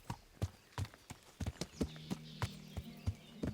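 Horse hooves clip-clop at a steady walking pace in the medieval game Kingdom Come: Deliverance, each crisp hoofbeat close and distinct, with a faint low tone humming beneath the later steps.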